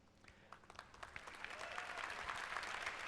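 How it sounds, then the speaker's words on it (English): An audience at Ubisoft's E3 2011 press conference breaks into applause, scattered claps building quickly into a steady, fuller round of clapping. "And forced clapping."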